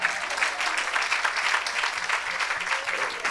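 A church congregation claps and cheers in praise during an evangelistic service, a dense, sustained wash of applause from a large crowd with voices mixed in.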